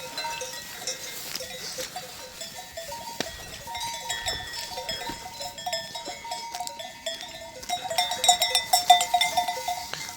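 A flock of sheep grazing among mushrooms while being herded, heard as scattered bleats with bells clinking and ringing steadily, growing busier and louder toward the end.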